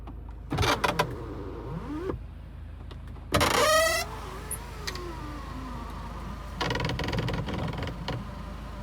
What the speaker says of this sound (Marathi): हा नवीन प्रॉब्लेम, सनरूफच ओपन होत नाही गाडीचा